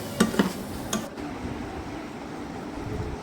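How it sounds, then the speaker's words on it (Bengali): Ground spices stirred into a pan of Burmese-style raw mango pickle: a few scraping, clinking strokes of a spoon against the pan up close, followed by a soft low sizzle. "এ পর্যায়ে আমি দিয়ে দেব গুঁড়া করে রাখা মশলা, দিয়ে আমি ভালো করে মিশিয়ে দেব।"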